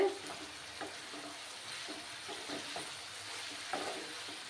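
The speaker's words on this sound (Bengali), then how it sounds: "একদম মুচমুচে করে আমি এটাকে ফ্রাই করে নেব" Potatoes frying in a pan over a lowered gas flame, a soft steady sizzle with faint crackles and occasional small pops, fairly quiet and alone.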